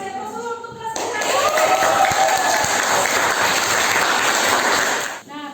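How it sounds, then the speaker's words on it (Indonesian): A school class applauding together after a teacher's prompt, a dense burst of clapping that starts sharply after a brief spoken lead-in and holds steady at full strength before fading at the end, close and loud. "Kita kasih aplaus dulu untuk kelas kita."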